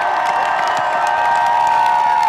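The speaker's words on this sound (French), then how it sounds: "Un tonnerre d'applaudissements, s'il vous plaît, pour Paul et Lamia." A crowd cheers and applauds in a dense, steady wash of clapping and shouts, with one long sustained whoop or whistle held over it, loud and close throughout.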